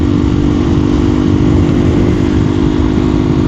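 A KTM Duke 390 single-cylinder motorcycle engine drones steadily and loud up close, a constant buzzing thrum with no break and no talking.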